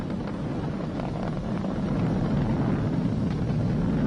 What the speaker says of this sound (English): We're throttling down to get ready for the period of maximum dynamic pressure.